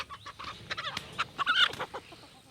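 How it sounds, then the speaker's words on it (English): Chickens clucking near a workshop where a 1971 Dodge Demon slant-six engine is being removed, a run of short, close, irregular clucks and squawks over roughly two seconds with no talk. "Chicken."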